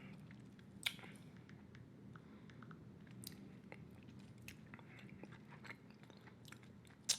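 Bubble gum being chewed close up, with soft wet squishing and smacking in an irregular rhythm over a low steady hum, plus a few sharper clicks. Nobody speaks.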